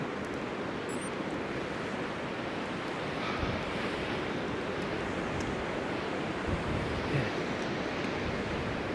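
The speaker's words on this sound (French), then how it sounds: "il y a beaucoup de vent" Steady roaring wind buffeting the microphone near the Courmes waterfall, with broadband rumble and faint surf-like wash throughout, no voices.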